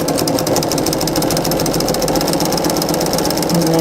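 A sewing machine runs continuously, stitching strips of fabric for a three-strip quilting unit, with a fast, even mechanical chatter close up and loud, uninterrupted throughout.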